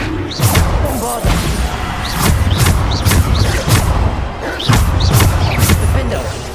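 Repeated Bombarda blasts in Hogwarts Legacy land as a series of sharp, heavy crashing booms about once a second, close and loud, with combat noise between them.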